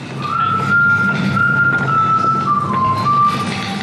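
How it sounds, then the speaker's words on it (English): A clear whistled tune, one person whistling a wavering melody close by over a low rumbling background. "he does a whistle in the episode"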